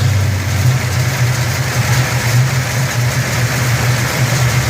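A 1971 Dodge Super Bee idles in a parking lot, a loud steady low rumble with a pulsing throb that runs evenly throughout, with no talking.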